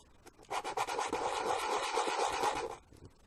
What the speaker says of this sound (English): we're trying to sand it evenly on all the sides